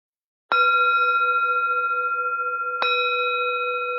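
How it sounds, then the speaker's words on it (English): Two clear strikes of a meditation bell ring out in a quiet room, the second about two seconds after the first. Each leaves a long pure shimmering tone that overlaps the next and slowly fades. "and then I'll ring the bell."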